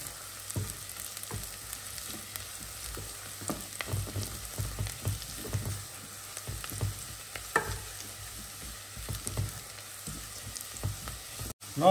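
Bacon crackles in a frying pan as spices including pepper and bay leaf are added, a close steady sizzle with scattered pops and scraping stirs throughout, ending in a sharp clatter.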